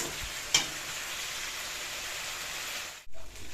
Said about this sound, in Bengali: ওইদিকে মাছের ঝোল মশলা দিয়ে কষানো চলছে